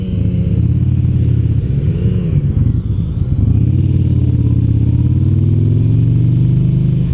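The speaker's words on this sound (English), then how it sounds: "It's a very good sounding bike." A 2017 Yamaha V Star Bolt R-Spec cruiser motorcycle with its stock exhaust: a loud, close, throbbing engine that revs up, dips briefly, then rises again into a steady rumble.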